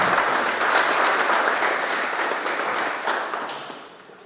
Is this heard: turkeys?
no